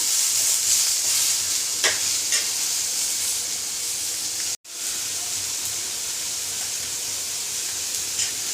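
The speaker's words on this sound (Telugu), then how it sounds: "పచ్చిమిరకాయలు ఫ్రై అయ్యింది ఇందులో ఈ టమాటా ముక్కలు వేసేద్దాం ఇవి కూడా కొంచెం మెత్తగా ఉడకనిద్దాం" Tomato pieces fry with green chillies in a hot pan, a continuous loud sizzle and hiss broken by a brief silent cut midway, with faint stirring scrapes.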